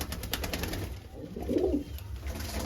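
A Madras pigeon giving a short low coo near the middle, close but not loud, over background noise with some clicking at the start.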